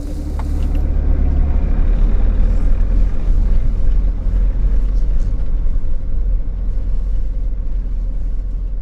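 Camper van driving off-road along a small, narrow track: a steady, loud, low engine rumble with road and body noise that runs the whole time, with no one speaking.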